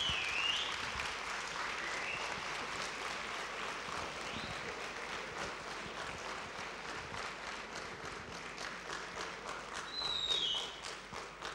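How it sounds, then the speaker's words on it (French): Applause from a conference audience rolls on for over ten seconds, a broad even patter of many hands at moderate distance, slowly thinning and then briefly swelling again near the end, without any talking. "je vous laisse applaudir."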